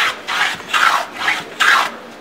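A moving fillister plane cuts a wooden tenon in three close, rhythmic rasping strokes, each a bright scraping swish with short pauses between.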